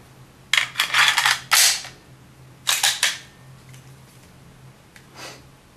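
Clicks of a Desert Eagle Mark XIX .50 AE pistol being reassembled: bursts of close metallic rattling and sliding, a second cluster of sharp clicks and a few faint ticks at the end.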